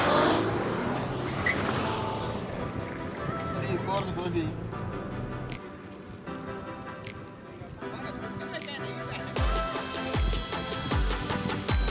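A Porsche and an Audi in a drag race roar hard under full acceleration, with engine noise, tire squeal and passing sounds over several seconds while people talk and shout excitedly nearby.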